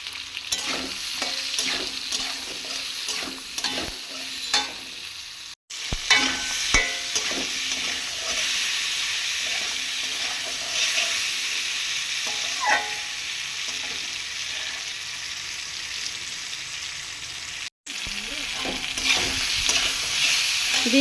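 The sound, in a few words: stirring lentil dal base with turmeric and salt in a pan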